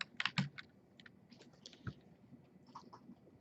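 Quiet typing on a computer keyboard while entering a row label in an Excel spreadsheet, with a quick cluster of sharp key clicks at first and then scattered, softer taps.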